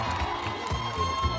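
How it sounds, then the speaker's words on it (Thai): Audience at a blue carpet television drama launch event applauding and cheering, a brief burst of mixed clapping, shouts and whoops from a lively crowd. "ขอเสียงปรบมือด้วยค่ะ"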